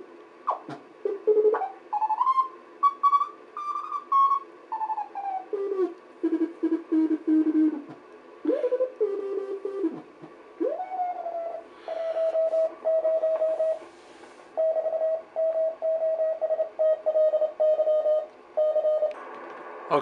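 Signals tuned on the 10-meter band of a Hammarlund HQ-170 shortwave receiver: warbling, gliding tones and steady carrier notes sounding in bursts with brief gaps, moderately loud over a quiet background.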